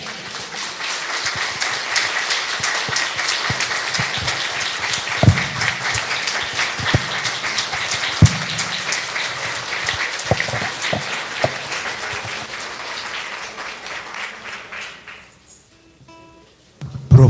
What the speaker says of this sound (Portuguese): Professor Antônio mereceu os aplausos de pé